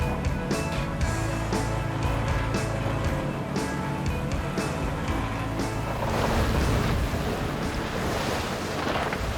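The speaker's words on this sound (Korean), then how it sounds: "파도가 점점 거세지자" Rough waves slap and surge around a 23-ton octopus fishing boat in the East Sea, with engine rumble and wind buffeting the microphone in a continuous, noisy wash.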